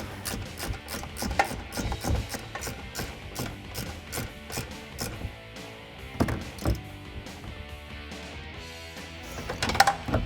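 A ratchet clicks in quick bursts of pawl ratcheting while a bolt is tightened back up on the suspension of a 2012–2018 RAM 1500 during a Rough Country 3-inch lift install, close and fairly steady with brief pauses.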